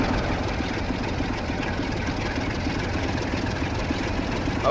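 A Class 47 diesel locomotive in a train simulator with a military cargo line. Its heavy engine drones steadily and evenly at a moderate distance, with no voices.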